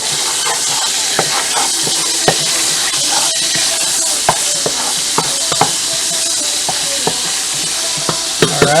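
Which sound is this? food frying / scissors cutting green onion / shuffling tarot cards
food frying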